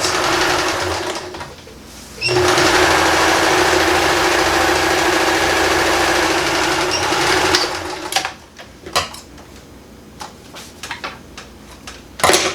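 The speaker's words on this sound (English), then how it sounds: "So now I'm gonna sew across this way so that raw seam is actually in here, and I'm sewing past it." A sewing machine runs steadily for about six seconds, stitching across a raw seam on a sling purse made from recycled denim jeans, then stops and gives way to quieter handling sounds and short clicks.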